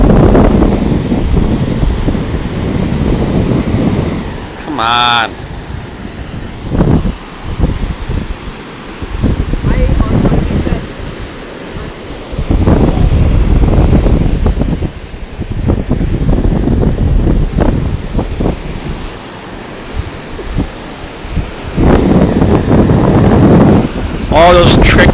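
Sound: ocean waves and wind at the beach

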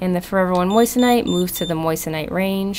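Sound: CIEL ONE gem tester alert from touching metal

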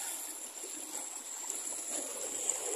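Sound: stream of water flowing in Todgha Gorge

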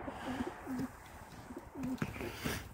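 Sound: pigeons cooing in a loft aviary

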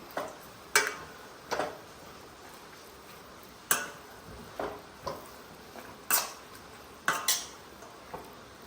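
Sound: stirring mushrooms in a pan for chicken dish

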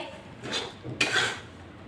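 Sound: stirring gram flour roasting in a wok

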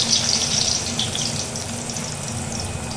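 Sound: potatoes frying in hot mustard oil in a wok

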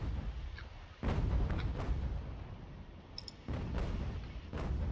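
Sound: cannon artillery fire in Ultimate General: American Revolution video game

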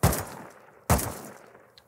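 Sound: AK rifle gunshots in the video game Rust

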